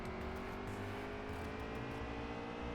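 Race car engines in the NASCAR Heat 3 video game hold a steady, dense roar at constant volume, with no voices over it.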